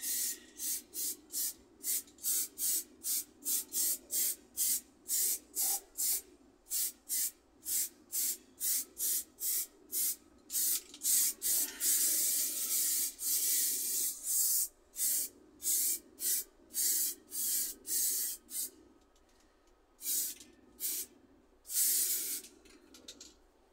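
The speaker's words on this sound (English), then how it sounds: "you should have short control bursts with the spray" A spray can of rust protector hisses in a long run of short, regular bursts, close by, with a few longer sprays toward the end.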